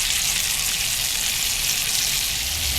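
Butter and rosemary frying in a pan at a motorcycle camp, a steady close sizzle with dense bright crackle running continuously without pause and no talk.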